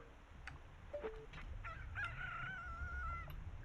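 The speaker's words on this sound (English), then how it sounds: "Cursed chicken noise." A chicken crows in Zelda: Ocarina of Time, a faint game sound with a short cluck followed by a drawn-out, wavering cock-a-doodle-doo against a quiet background.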